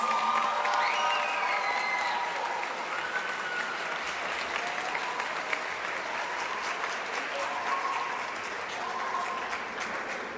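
A school audience applauds new National Honor Society inductees at a spring induction ceremony, with sustained, dense clapping filling the hall at an even volume throughout.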